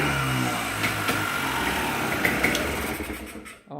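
A Yamaha Blaster ATV engine, freshly running after a carburetor clean, runs steadily up close with a buzzy two-stroke drone for several seconds before cutting out sharply near the end.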